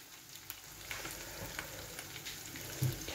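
Slices of black pudding (morcilla) fry in a dark pan, giving a soft continuous sizzle with faint crackles and an occasional light clatter from stirring.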